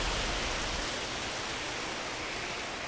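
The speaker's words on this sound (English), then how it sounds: "I love the sound effects during the rain. It always sounds like a really bad storm" Heavy rain storm effect from the prison-building video game Prison Architect, a steady broadband hiss of downpour with a low rumble at the start, continuous and fairly loud with no talk over it.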